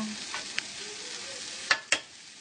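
Fideo noodles being stirred and browned in a pan, a quiet low fry with a few sharp scrapes and clinks of the spoon near the end, no speech.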